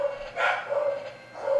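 Corgis bark in a video game, two or three short tonal woofs at close range, loud and clear with no talk over them.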